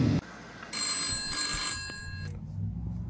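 A telephone rings indoors with a bright electronic bell tone that holds for about a second and a half, then stops, followed by a short clunk and quiet background.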